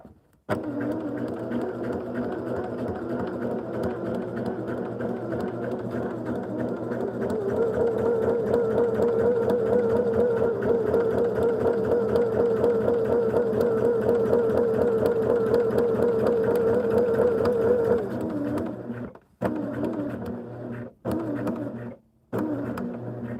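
Sewing machine stitching quilt blocks, a steady close mechanical whir running continuously, rising slightly midway, then breaking into a few short stops and restarts near the end.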